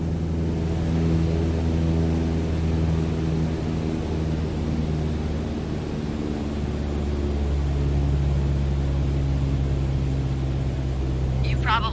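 A steady, droning aircraft engine in MS Flight Simulator 2020 eases back in power, its low harmonic hum continuing unbroken and loud throughout with a slight shift in pitch partway through.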